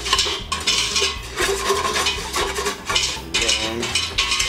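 Flour being whisked into melted butter in a pot in a small kitchen: fast, steady metallic scraping and clinking of the whisk against the pan in repeated strokes, close and fairly loud.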